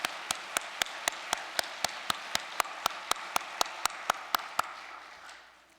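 Slow, evenly spaced claps from an audience at a church mission address, about sixteen sharp hits at a steady rhythm before fading out, with no voices over them.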